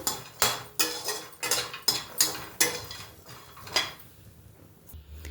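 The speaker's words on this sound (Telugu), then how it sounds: "ఇందులో నేను ఎలాంటి నూనె వేయలేదండి, ఉట్టి మూకిట్లోనే వేగిస్తున్నాను." Coconut pieces dry-roasting in an oil-free pan give a run of sharp clinks and scrapes, roughly one every half second, close and moderately loud, then fade into quiet near the end.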